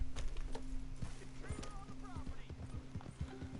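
Hooves of a horse in Red Dead Redemption 2 clop in a steady trotting rhythm over low game music, with a brief whinny partway through.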